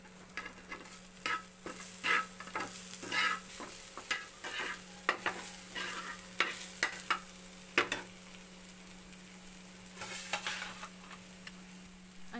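Okra (bhindi) sizzling in hot oil in a pan, with a steady frying hiss broken by repeated close scraping taps as the vegetables are stirred.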